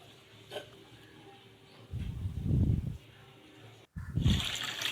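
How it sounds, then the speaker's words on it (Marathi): Sago pearls and barnyard millet are rinsed by hand in a bowl of water, giving two soft bursts of swishing and sloshing separated by quiet pauses, close and fairly faint. "आपण हा साबुदाणा आणि वरई आपण छान दुसऱ्या पाण्याने देखील स्वच्छ धुवून घेऊयात"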